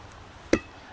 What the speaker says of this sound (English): you're gonna toss and catch the ball.